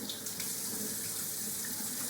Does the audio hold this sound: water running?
yes